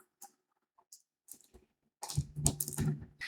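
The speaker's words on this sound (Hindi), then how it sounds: "तो हमने यहाँ पे टाइप कर दिया नॉर्थ" Keys tapped on a computer keyboard while entering a word into an Excel spreadsheet: a few faint scattered clicks at first, then a louder, denser burst of rapid keystrokes near the end, with no talking.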